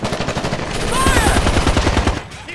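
Squad gunfire in Ghost Recon Advanced Warfighter 2, a loud, rapid run of automatic shots in a steady rhythm lasting about a second and a half, with game voices briefly around it.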